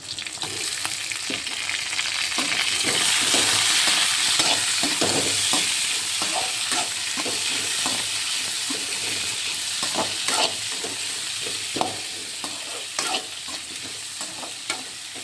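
Onions and tomato sauté in a pan with a steady, close sizzle and repeated scraping stir strokes throughout.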